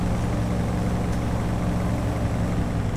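Low, steady rumble of a vehicle engine idling in the video game Borderlands, an even droning hum with a pulsing low tone, constant throughout with no talk.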